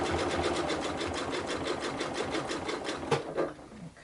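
A sewing machine stitches through batting scraps with a fast, even mechanical whir that runs steadily and close, then slows and stops with a few clicks at the end.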